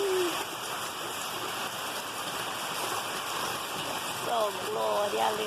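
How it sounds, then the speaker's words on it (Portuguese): Heavy rain pours steadily, a dense, continuous hiss of water on surfaces heard up close, with excited voices calling out over it near the end. "Maravilha de chuva!"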